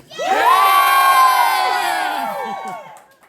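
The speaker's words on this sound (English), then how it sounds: "Oh, sure, you cheer for that part." A live audience at a comedy-style stage show erupts in loud cheering and whooping, a dense burst of many voices that swells quickly, holds for a couple of seconds and then fades out.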